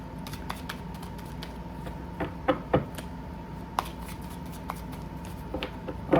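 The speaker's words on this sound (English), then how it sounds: "I'm going to shuffle these and then we'll lay them out." Tarot cards are shuffled close by in soft riffling bursts and light taps, with a few sharper snaps and clicks over a low room hum, no talking.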